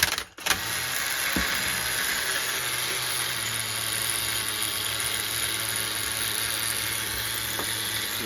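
A worn HPI MT2 RC truck with a nitro engine that keeps running rich and lean buzzes loudly and steadily nearby after a brief rough start, with a high whine over the drone.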